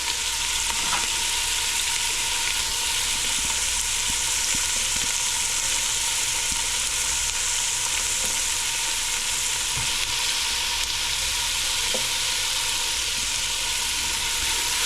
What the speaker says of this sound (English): as soon as this oil heats up and starts to smoke just a tad, which we're pretty much there, I'm going to go ahead and add my onion